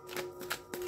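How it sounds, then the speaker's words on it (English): Tarot cards are shuffled in a few quick riffling bursts, soft and close, with no talking. "One more shuffle for Aquarius,"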